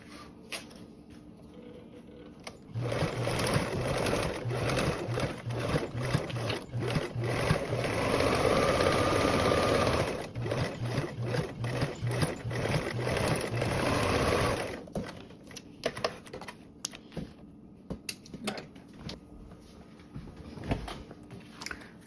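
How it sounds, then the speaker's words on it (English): A sewing machine basts around a fabric pocket in a fast, steady mechanical whir for about twelve seconds, then falls to quieter, intermittent clicks and clatter. "you're going to sew around and baste on your pocket"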